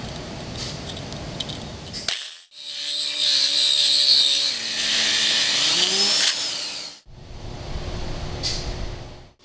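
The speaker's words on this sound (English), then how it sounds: "And begin drilling." A tile core drill grinds into tile with a loud, steady whine for about five seconds, starting abruptly and cutting off cleanly, close by.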